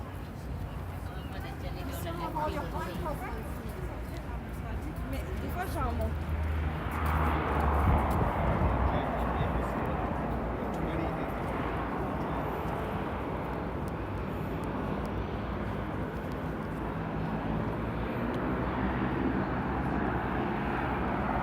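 Airplanes near the port of Vancouver, heard from the deck of the Viking Orion cruise ship, make a distant, swelling engine roar that rises midway and lingers, with people talking over it.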